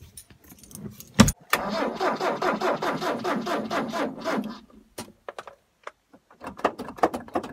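A 1994 Ford Econovan with a fuel pump fault cranks without starting: a sharp click, then several seconds of loud rhythmic starter churning that stops, followed by scattered clicks and handling noises.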